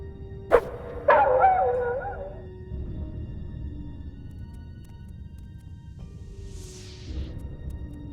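A dog in the video game Ankh gives two sharp yips close together, the second trailing into a whimpering whine, followed after a quiet stretch by faint higher squeaks and a soft growl.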